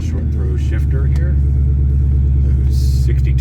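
A 2003 Saleen Mustang with an intercooled Kenne Bell supercharger drives along, its engine a loud, close, deep droning rumble heard from inside the car, with faint higher chatter over it.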